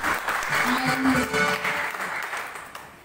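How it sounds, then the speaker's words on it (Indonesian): A church congregation applauds after a Christmas sermon. Steady, moderately loud clapping fills the room with faint tonal sounds beneath it, then it thins out toward the end. "Mari berikan tepuk tangan buat Tuhan."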